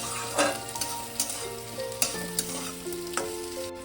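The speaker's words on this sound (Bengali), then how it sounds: "এটাকে মিনিট 2 আমি ভালো করে ভেজে নেবো মশলাটাকে" Spice masala for paneer manchurian fries in a pan with a steady close sizzle, broken by sharp spatula scrapes and taps at irregular intervals.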